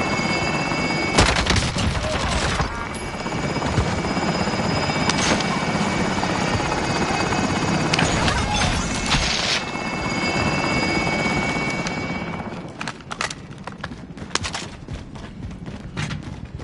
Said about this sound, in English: Extraction helo is ready for pickup.